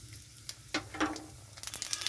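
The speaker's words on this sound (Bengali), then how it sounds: "কড়াইতে সর্ষের তেল দিয়েছি তেলটাও গরম হয়ে গেছে এখানে দিয়ে দিচ্ছি গোটা শুকনো লঙ্কা কালো জিরা" Whole dried red chillies and black cumin hit hot mustard oil in a kadai, crackling close up in sharp irregular pops over a soft hiss, with the spitting growing busier toward the end.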